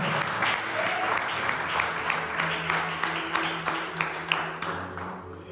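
A church congregation at a Portuguese prayer service claps steadily in a dense, sustained wash of applause, with faint voices underneath.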